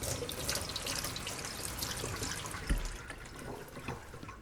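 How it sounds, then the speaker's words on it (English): Freshly cut herbs are rinsed under a running tap into a sink, a continuous soft splashing water stream with small spatters, quiet and close, with no talk. "You're going to lightly wash your cut herbs."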